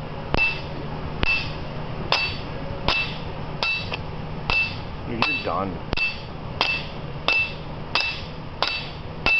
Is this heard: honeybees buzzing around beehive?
no